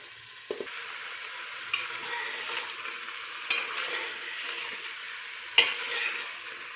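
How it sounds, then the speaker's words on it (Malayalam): Chicken and potatoes stirred together in a pot, with a soft continuous frying sizzle broken by a few sharp scrapes and clinks of the spoon, close up, no voices. "അപ്പോൾ നമ്മുടെ ചിക്കൻ എല്ലാം കൂടി ഒന്ന് മിക്സ് ചെയ്തിട്ടുണ്ട്"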